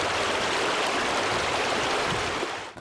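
Flash flood water rushing over the only land crossing in Hajr district, Hadramout coast, Yemen, a loud, dense, continuous roar of flowing water with no voices.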